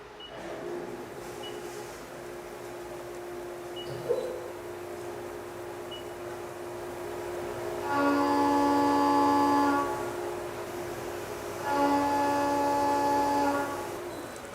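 A machine tool running a stable machining cut, with a steady tonal hum and two sustained bursts of cutting tone, each about two seconds long, over the continuous machine drone.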